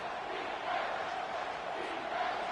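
Stadium crowd in College Football 25 on a third-and-four play, a steady, dense roar of many voices that holds loud and even throughout with no pauses.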